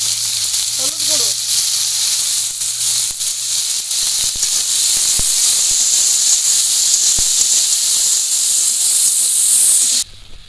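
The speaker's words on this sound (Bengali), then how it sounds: "আমি কাঁকড়াগুলো দিয়ে ভেজে নেব" Crabs frying in hot oil in a wok give a loud, steady hiss and sizzle that runs unbroken for about ten seconds, then cuts off abruptly.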